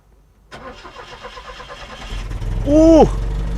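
A Holden car engine cranks on the starter and catches, rising from a low rumble to a brief loud rev near the end before settling into a steady idle, recorded close up.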